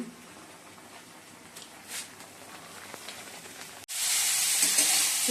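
Vegetables (beans, carrot, cabbage) frying in a pan for chow mein, a soft steady sizzle that jumps to a loud, bright hiss about two-thirds through, with no voices.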